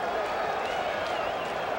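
A packed baseball stadium crowd at a 1986 World Series game between the New York Mets and the Boston Red Sox roars in a continuous, dense wash of cheering with no breaks.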